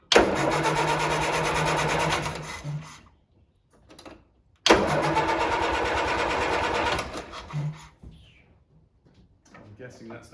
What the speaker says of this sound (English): Right, let's start the car.